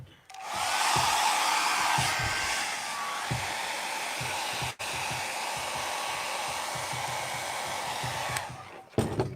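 A heat gun blows on vinyl wrap laid over a Nissan Patrol Y62 centre console, a loud, steady whooshing whine that runs almost without pause, briefly dips once, then cuts off near the end.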